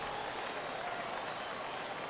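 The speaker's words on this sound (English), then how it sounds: "Crowd gets up for the 3-2." A stadium crowd in the MLB The Show 18 baseball game cheers and claps as one steady, dense roar that holds at an even level for the whole span, with no breaks.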